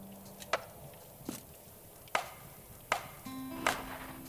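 Firewood being chopped in the video game Chillin By The Fire: five sharp, separate axe strikes spaced about a second apart, moderately loud over a faint background, with no voices.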